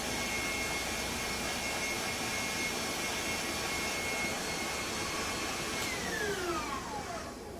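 A tabletop stand mixer whips peanut butter semifreddo mixture in its bowl, giving a steady, loud motor whir that runs unbroken for several seconds and fades slightly at the end.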